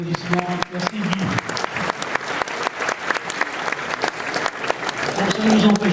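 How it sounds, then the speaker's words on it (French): Applause from an audience at a graduation ceremony, steady clapping that fills the room, with a few voices murmuring underneath. "Merci pour les applaudissements."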